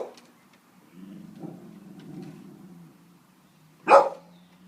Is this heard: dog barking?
yes